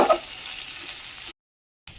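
Potatoes fry in a wok with a soft, steady sizzle and faint stirring for over a second before cutting to silence, close and low in level with no talking.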